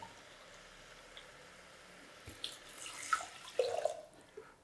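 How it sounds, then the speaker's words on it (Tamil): Water is poured into rice for ven pongal in a home kitchen, a soft pour and trickle that starts quietly and turns into a few close splashing bursts toward the end. "இப்போ தண்ணி ஊற்ற வேண்டியதாங்க."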